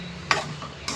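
Two short scraping strokes as a spoon stirs Yippee noodles with masala in a pan, separated by a quiet pause, close and soft, with no talk.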